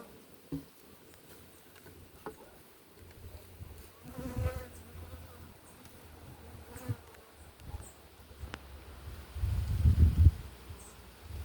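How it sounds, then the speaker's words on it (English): Honey bees on hive frames buzz faintly and intermittently close by, with soft rustling and handling knocks, and a louder burst of buzzing near the end. "Not a whole lot of bees, but there's a few on these frames."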